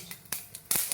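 Mustard seeds pop in hot coconut oil in a pan, a handful of sharp, quiet crackles spaced irregularly across a second with no talking.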